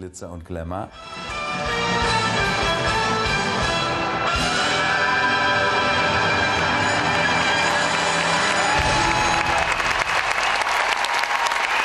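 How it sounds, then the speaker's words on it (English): Audience applause and cheering fill a concert hall after a classical music performance, a dense, loud, sustained roar of clapping with music fading beneath at the start. "The crowd is ecstatic."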